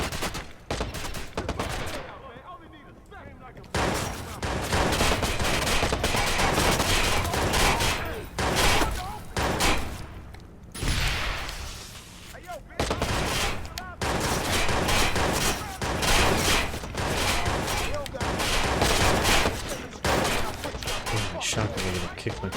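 Rapid bursts of MP5 submachine gun fire in RoboCop: Rogue City, dense and loud with short pauses between strings of shots, over game sound and a speaking voice.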